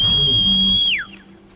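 A loud, piercing sustained whistle from a mount-hacking skill in Horizon Zero Dawn holds steady for about a second, then bends sharply downward and cuts off, leaving quiet background.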